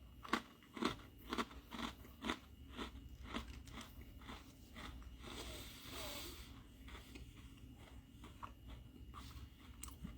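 A Coke-flavored Oreo gets bitten and chewed up close in a string of soft, rhythmic crunches, quiet and intimate, with no one speaking.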